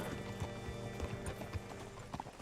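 Steady clip-clop of horse hooves on hard ground in the video game Red Dead Redemption 2, a rhythmic trotting pattern with a faint whinny mixed in, fairly close and continuous.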